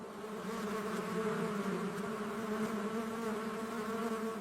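Bees buzz steadily and loudly for the whole stretch, a dense close-up drone with no voices.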